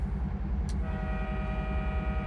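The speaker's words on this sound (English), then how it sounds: "That classic train horn." A diesel locomotive in Microsoft Train Simulator sounds a sustained horn tone over the heavy, rhythmic chugging rumble of its engine as it gathers speed.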